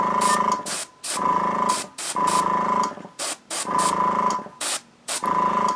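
An airbrush sprays paint onto a miniature in repeated short bursts, each a sharp hiss with a steady tonal whine, separated by brief silences in an irregular on-off rhythm.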